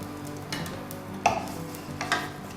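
Asafoetida and spices are stirred in a pan over medium heat, giving a few soft scraping strokes and a faint sizzle at low volume.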